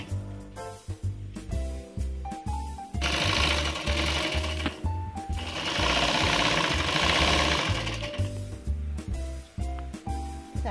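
Sewing machine stitching a sari fall along the border at home, close and loud, with rapid needle bursts between short pauses and two longer steady runs of stitching.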